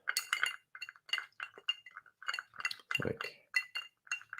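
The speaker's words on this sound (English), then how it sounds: "So this is my ghetto cocktail stir because I had a big bit of ice in here." Spoon stirring a large chunk of ice in a cocktail glass, a quick series of bright, close clinks and rattles repeating steadily, with a soft thud midway.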